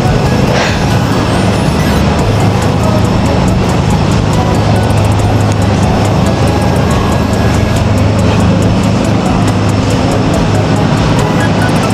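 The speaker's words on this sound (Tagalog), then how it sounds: "Testingan na to og paayo ang atong drone dari." Drone flying on a test run, a loud steady whine and broadband roar filling the whole stretch, close and continuous with no pauses.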